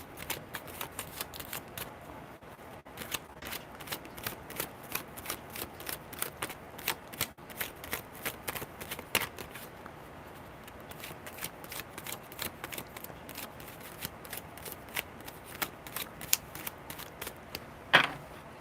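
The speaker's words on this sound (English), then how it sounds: "Just tell me when to stop shuffling" Tarot cards are shuffled by hand in a long run of crisp, rapid riffling flutters and soft slaps, steady and close, with no voices.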